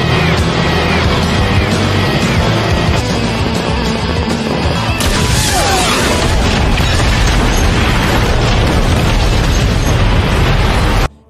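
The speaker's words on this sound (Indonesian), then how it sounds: "Mobil-mobil pun meledak satu persatu." Loud, close car explosions boom one after another, with bursts and crashing debris blending into a sustained roar.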